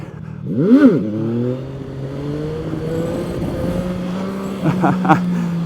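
A CFMOTO 675NK motorcycle accelerates hard while doing wheelies. A sharp rising rev opens the burst, then a sustained climbing engine note follows, and another quick rev surge comes near the end, close and loud.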